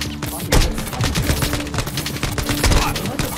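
Rapid gunfire in the mobile shooter game Lost Light bursts out in quick volleys, loud and close, with dense clattering shots packed together.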